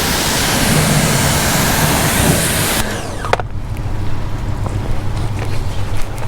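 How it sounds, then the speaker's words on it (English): Water spray rinses foam off car tires, a loud broadband hiss that suddenly drops to a softer, rougher splashing after about three seconds. "So let's rinse that off and see what the product looks like"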